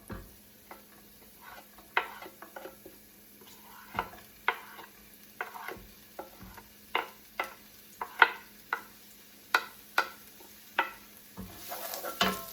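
Carrot and onion cook in an oversized pan. Spoon scrapes and clacks come in an irregular series over a soft, steady sizzle, and no one talks.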